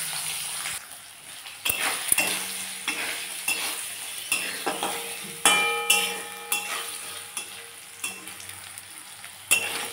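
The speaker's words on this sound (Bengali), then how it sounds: "লাল লাল করে ভেজে নিতে হবে নারকেলগুলো।" Coconut pieces fry in hot oil with chickpeas and chilli nearby, a steady sizzle broken by repeated sharp scrapes and clinks of a spoon stirring in the pan, close and fairly quiet.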